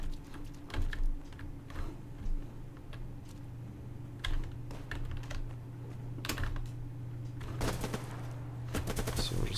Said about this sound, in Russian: Стреляет.